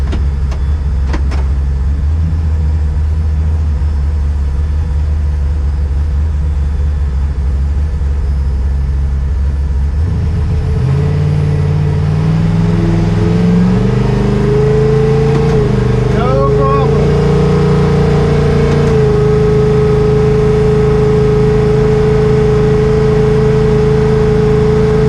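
A nitrous V8 S10 truck engine drones steadily as it drives through a wide U-turn, its low rumble rising in pitch partway through as the revs climb and then holding at a higher, louder pitch.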